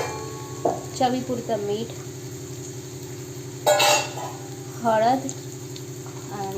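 Garlic and green chilli paste sautés in a pan for an onion-tomato chutney. A faint, steady sizzle hums beneath a voice talking over it.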